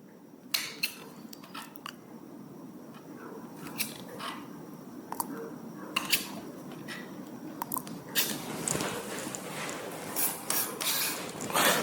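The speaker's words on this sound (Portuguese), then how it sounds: "Farol, vou tirar essa rebarbinha aqui." A small cutting tool trims excess fondant burr from a car-shaped cake, near the headlight, giving soft scraping, rubbing and clicking sounds in irregular bursts throughout, close up and fairly quiet.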